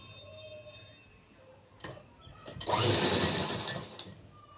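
A sewing machine stitching a waistband strip onto a blouse, heard as a couple of faint clicks followed by a short burst of close whirring stitches lasting about a second and a half.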